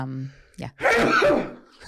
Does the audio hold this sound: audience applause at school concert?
no